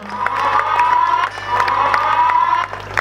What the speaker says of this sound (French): On applaudit pour la chaîne de référence Antena.